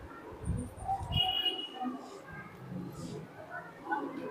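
Soft, low coos of a high-flying pigeon close by, a couple of throaty bursts early on, mixed with light chirps and quiet background noise.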